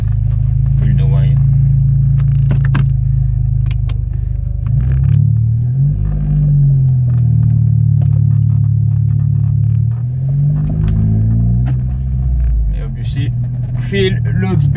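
Audi S3 8V with a newly installed engine mount, driving and accelerating hard on the road, its loud, steady engine drone rising and falling throughout with brief scraping and rattling noises on top.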